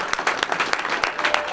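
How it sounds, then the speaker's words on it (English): A crowd applauds a boat racing crew, loose overlapping claps with sharp individual slaps, mixed with scattered cheering voices. "How about a round of applause"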